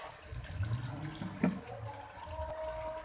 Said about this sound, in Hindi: अब मैं इसमें थोड़ा सा पानी का छींटा लगाऊंगी